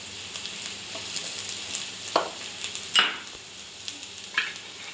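Chopped carrot and capsicum stir-frying for veg chowmein give a steady soft sizzle, punctuated by a few sharp scrapes and clinks of a spatula against the pan, close by and without talking.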